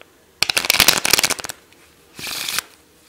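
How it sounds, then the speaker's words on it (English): A deck of playing cards is riffled in a quick burst of rapid crisp flutters, followed after a pause by a shorter, smoother shuffle, close and clear with no talking. "I'll shuffle the deck quickly."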